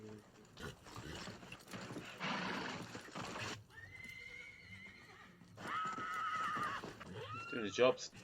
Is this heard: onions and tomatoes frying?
no